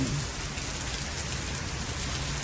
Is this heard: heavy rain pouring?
yes